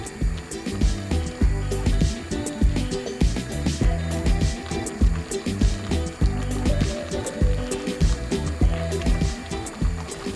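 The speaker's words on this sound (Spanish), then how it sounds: "Mezclamos suavemente para integrarlas a la preparación." Diced Yungay potatoes are gently stirred into a Peruvian cauliflower and chicken stew in a pot, a continuous wet, squishing churn with soft liquid sloshes and irregular clinks, close and steady throughout.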